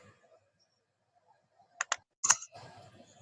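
A few sharp computer mouse clicks while refreshing a trading platform's Expert Advisors list, two quick clicks followed by a louder click and a short clattering burst, close and isolated in a quiet room.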